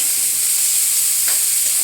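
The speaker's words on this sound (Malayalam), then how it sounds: "പിന്നെ വെളുത്തുള്ളി, അതിലേക്ക് നമുക്ക് കുറച്ച് ഉപ്പും ഇട്ട് കൊടുത്തിട്ട് നന്നായിട്ടൊന്ന് വഴറ്റിയെടുക്കാം." Garlic and salt sauté in a hot pan with a loud, steady sizzle and hiss, broken by a quick scrape of stirring near the end.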